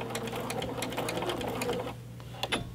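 Sewing machine back stitching fabric for a fitted 3D face mask, a fast rapid-fire clatter of needle strokes heard close, briefly easing before a few final stitches.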